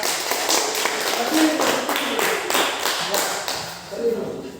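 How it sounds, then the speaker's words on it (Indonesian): A small group claps for group 1 at a classroom presentation, a run of quick, fairly loud hand claps with voices talking over and around them. "tepuk tangan untuk kelompok 1"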